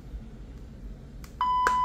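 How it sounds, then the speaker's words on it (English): A mobile phone beeps after its network unlock operation was interrupted, giving a few short, clear electronic tones near the end that follow a quiet stretch of faint background hiss. "it's beeping because of it got interrupted in the middle of the operation"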